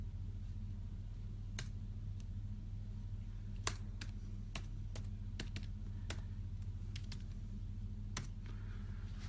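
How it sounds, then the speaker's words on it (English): Keys on a computer keyboard tapped in sparse, irregular clicks over a steady low hum, fairly close and quiet, with no talking. "I'm not very good at this typing thing."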